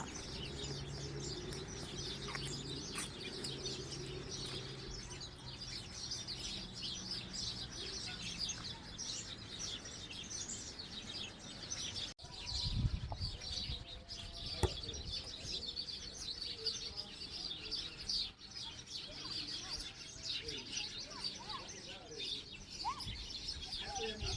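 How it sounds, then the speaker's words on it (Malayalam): Many small birds chatter and chirp in a dense, continuous chorus from somewhere hidden among tree leaves near a room, with overlapping high calls throughout. "ഈ കലപില കൂട്ടുന്ന ആൾക്കാരൊന്നും കാണാൻ പറ്റില്ല ഒക്കെ ഇലയുടെ ഇടയിൽ പതുങ്ങിയിരിക്കുന്നുണ്ടാവും"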